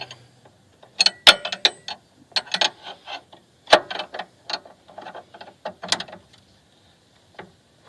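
Wrench loosening a 17 mm bolt on a Porsche 986 Boxster rear strut, a series of sharp ratcheting clicks in short bursts with pauses between them, close and clear with no speech.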